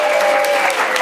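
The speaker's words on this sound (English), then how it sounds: "As well, please give a round of applause to those in the tech booth." Audience applause at a main stage show, honoring the tech booth crew; steady, dense clapping fills the moment at close, loud level with no voices over it.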